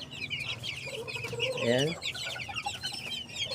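Backyard chickens cluck and chatter steadily at close range, with a rising burst of calls in the middle; a voice speaks briefly over the birds.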